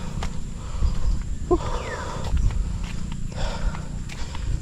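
A horse walking along a rain-soaked rural dirt road, its hooves giving a few soft, scattered clip-clops at moderate distance over low ambient noise.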